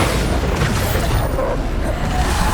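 A Bombarda explosion spell from the game Hogwarts Legacy goes off as a loud, close, rumbling boom, with dense low crackle sustained through the brief burst.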